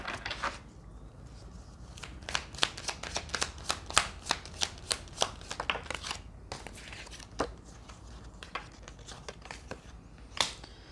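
Osho Zen Tarot cards are shuffled close by in quick repeated bursts of crisp riffling and snapping, spread across the clip with short pauses between them and no voices.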